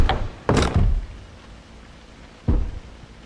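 Banging on a door in the horror game P.T., a few heavy thuds: a quick double knock near the start, a pause of quiet, then one more loud bang, fairly close and booming.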